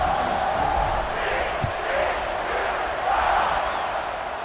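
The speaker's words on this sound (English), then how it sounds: "Do you think this crowd's going to get loud when their defense comes on the field?" Stadium crowd at a college football game, a steady broad roar of many voices filling the stands, swelling slightly in waves, with a brief thump partway through and no clear speech.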